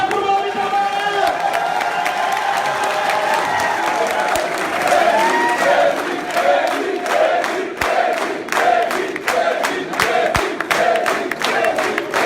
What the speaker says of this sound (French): applaudissez pour Mamadi Doumbouya